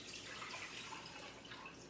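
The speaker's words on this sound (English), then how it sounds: "put my water in" Water pours steadily into a cooking pot holding ginger turmeric tea ingredients, a continuous splashing rush that stays even throughout with no voices.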